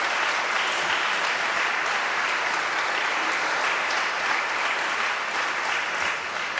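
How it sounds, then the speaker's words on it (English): A church congregation applauds steadily in thanks, a dense, sustained wash of clapping from many hands with no break, fairly close and filling the room. "can you just give an applause for these people who've been so kind?"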